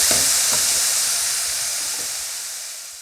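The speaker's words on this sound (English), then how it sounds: "in goes 2 coarsely chopped onions. We'll now saute these" Two coarsely chopped onions hit hot ghee in a pan for a chicken madras, a bright sizzling hiss with a few clinks at the start that gradually softens.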